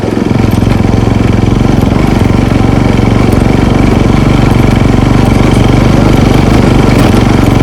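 A motorcycle engine hums loud and continuous during a village ride on a hill road, following close behind a tractor, with steady close drone and rumble and no breaks.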